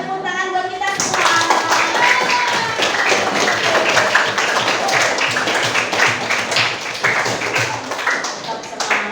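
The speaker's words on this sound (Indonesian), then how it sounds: "Boleh tepuk tangan buat kita semua." A class of students applauding together in a school classroom, dense loud clapping that starts abruptly after a brief voice and continues steadily to the end, with voices mixed in.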